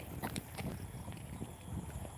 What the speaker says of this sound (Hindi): हमर सबके बकरी सब चलि रहल छै